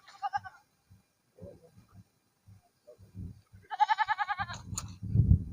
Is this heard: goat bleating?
yes